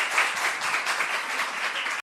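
An audience claps steadily to welcome a pastor to a lecture on the Old and New Testaments, a dense, even wash of applause heard alone.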